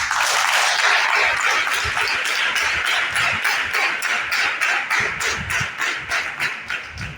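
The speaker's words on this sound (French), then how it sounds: "que je vous demande bien sûr d'applaudir une fois encore" Audience at a gathering of the national artisans' confederation of Benin applauds steadily, a dense wash of hand claps that thins toward the end into fewer, more distinct claps.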